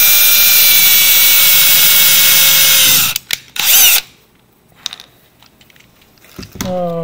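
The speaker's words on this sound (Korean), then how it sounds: "드릴을 이용해가지고" An electric drill bores holes for an MG995 servo pan-tilt mount, whining loudly and steadily for about three seconds before stopping. A few clicks and handling noises follow, then a short second burst of drilling.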